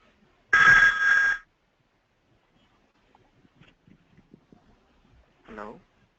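A telephone rings in one short, loud electronic burst; a voice answers it soon after and brief speech follows during an online work call.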